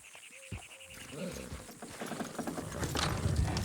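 Horse hooves clip-clop in the video game Red Dead Redemption 2, a quiet, uneven trotting rhythm mixed with animal calls and outdoor ambience, growing busier toward the end.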